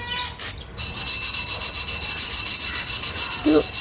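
Rust being scrubbed off a vehicle body, a steady rhythmic rasping rub repeated at an even pace, fairly close and continuous, with a brief louder knock near the end.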